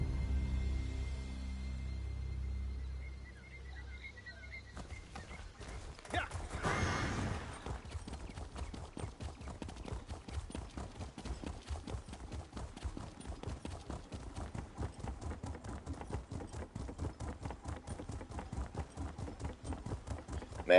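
Rapid, regular horse hoofbeats in Elder Scrolls Online clip-clop steadily for most of the stretch, loud and close, after a quieter opening with a low ambient hum.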